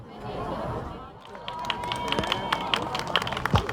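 Applause from a crowd at the opening ceremony of a Korean community sports festival in Germany marking Liberation Day, a steady rustle of many hands that grows denser and more crisply percussive partway through, with murmured voices underneath.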